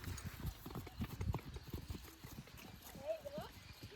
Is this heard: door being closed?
no